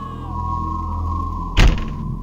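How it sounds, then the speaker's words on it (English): A heavy door slams shut in the horror video game The Visitor, a single loud thud that cuts sharply through a steady low ambient drone and then fades. "Oh, shut doors."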